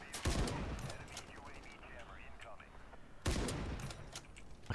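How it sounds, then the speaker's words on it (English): Sniper rifle fire in the video game Ironsight: two loud, sharp reports about three seconds apart, each with a ringing tail, over low background game noise. "Use the sniper because I'm doing the best I can with the sniper."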